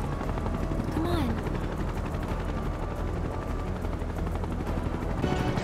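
A helicopter in the video game Final Fantasy VII Rebirth gives a steady, loud rotor drone that runs unbroken through the whole stretch, with other dense game noise mixed in.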